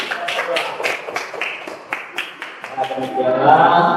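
A classroom of students clapping their hands in a quick, uneven burst of claps, close and fairly loud, with voices rising toward the end.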